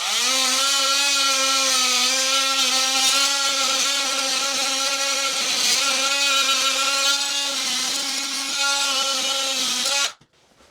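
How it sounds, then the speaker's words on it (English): An oscillating multi-tool chips plaster off a wall with a loud, steady buzzing drone full of harmonics, running continuously for about ten seconds before cutting out abruptly. "I'm going to do it with a multi-tool actually"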